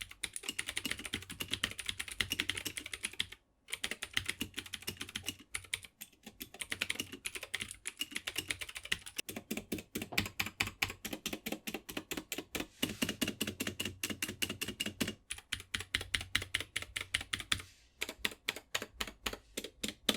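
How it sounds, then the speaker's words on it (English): Loud, clicky typing on a Womier K66 keyboard with blue mechanical switches, rapid bursts of crisp keystrokes with brief pauses, close up and continuous for a long stretch. "since these are blue switches, they are just pretty loud in comparison to the much quieter reds or blacks"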